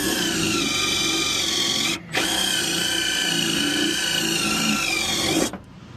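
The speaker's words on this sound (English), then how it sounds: "I'm going to drill with a pilot bit some new holes" A power drill fitted with a pilot bit bores new holes for boiler screws, a loud steady whine running close to the mic, briefly cut off once and resumed, then stopping near the end.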